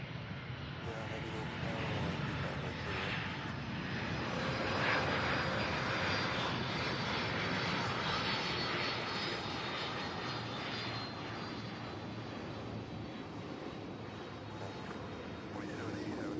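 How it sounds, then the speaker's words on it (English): MD-11 airliner jet engines at Louisville's SDF airport, a steady broadband roar that swells slightly midway and holds throughout, with a voice talking over it. "Try to get on this MD-11."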